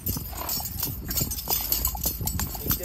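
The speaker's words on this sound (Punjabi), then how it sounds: "ਮੁਹੰਮਦ ਕਾਸਿਮ ਦੀ ਡਾਂਸਰ ਦੁਆਕ ਵਛੇਰੀ ਪਹਿਲੇ ਡਾਂਸ ਚੈੱਕ ਕਰੋ" Rhythmic clip-clop of a Pakistani desi Nukri mare's hooves as she dances, steady close stepping beats repeating throughout over light background noise.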